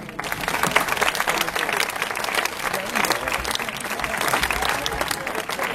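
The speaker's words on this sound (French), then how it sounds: "sur les applaudissements du public, s'il vous plaît" A live audience at the 2014 Radiocrochet final applauds steadily and loudly, a dense even clapping crowd that carries on throughout, with voices faintly mixed in.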